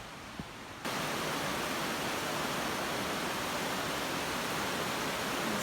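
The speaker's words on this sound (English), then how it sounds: "These pretty little cascades are created by the outlet from Pierce Pond." Small waterfall cascades at the Pierce Pond outlet beside a trail in Maine make a steady, full rush of water. After a brief quieter start it holds an even, close roar throughout, with no voices.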